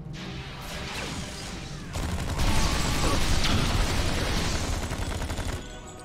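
Weapons fire rattles without pause in the Star Trek Online video game, dense overlapping blasts and impacts that build louder midway and then cut off abruptly near the end.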